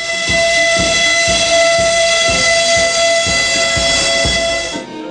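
A memorial train pulls into a station platform, a loud steady whistle tone held over rhythmic wheel clatter and rumbling cars for about five seconds, fading out at the end.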